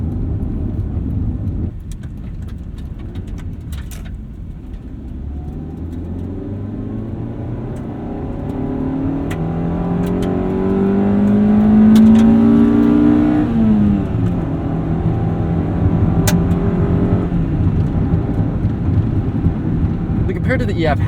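A 1995 Honda Civic Si (EJ) engine revving as the car drives, a steady interior drone that rises in pitch and load through a clear pull, then settles, loud and continuous throughout.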